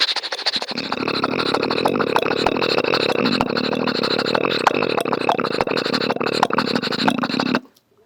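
A mimicry artist voices a train, a motorcycle and a horse cart all at once, a sustained droning engine tone laced with rapid clicking hoof-like beats, steady and loud before stopping abruptly.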